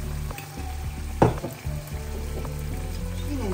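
Flour sautéing with meatball sauce in a pan, a steady close sizzle and fry with a brief scraping stir partway through.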